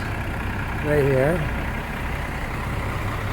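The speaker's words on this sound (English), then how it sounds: "because the trucks are all going down" Trucks rumble along Hollis Street downtown, a steady low engine drone with a passing tonal whine, while someone speaks briefly over the traffic noise.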